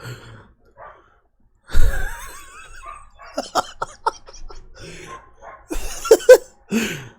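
An excited dog barks and yelps in irregular bursts at moderate distance, with loud clustered outbursts toward the end, mixed with breathy sighing sounds and no clear speech.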